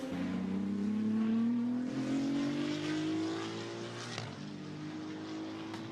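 GT2 race cars, among them a Mercedes-AMG, run on track at Misano in a qualifying session: a steady engine drone slowly rises in pitch, loud and continuous, with no talking.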